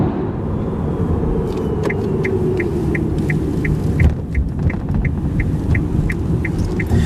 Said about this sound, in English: We're driving along on the 401, Canada's busiest highway, and there's no trouble whatsoever keeping up with traffic and passing slower vehicles.